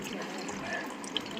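Water pours into a pan while making homemade french fries, a short steady splashing trickle at close range.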